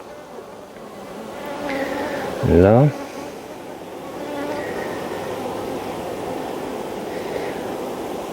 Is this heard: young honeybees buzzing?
yes